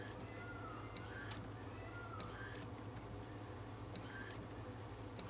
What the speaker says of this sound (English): Now it's actually printing the image.